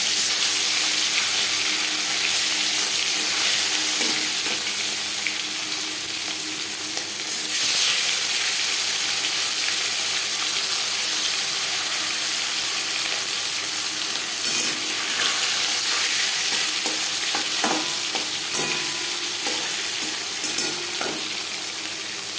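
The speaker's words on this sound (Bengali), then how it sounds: "মাছ হালকা করে ভেজে নেব।" Marinated silver carp fillets fry in hot refined oil, a dense, steady crackling sizzle with scattered pops that fills the whole stretch, close and loud with no voices.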